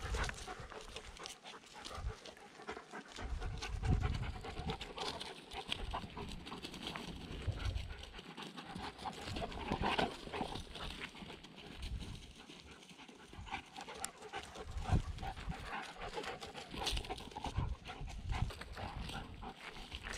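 Two dogs, Max and Bella, play together with scuffling movement, panting and paws on the ground, a busy, fairly faint tumble of close sounds without speech.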